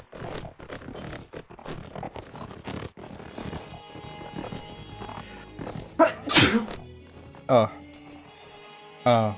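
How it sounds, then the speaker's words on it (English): A sneeze bursts out mid-conversation during a Mount and Blade Warband game session on Xbox, loud and close, followed by a couple of shorter sharp bursts, with talk running throughout beforehand. "Oh, I gotta sneeze."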